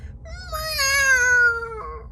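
A single cat meows clearly and close by, one drawn-out rising and falling call over a faint low background.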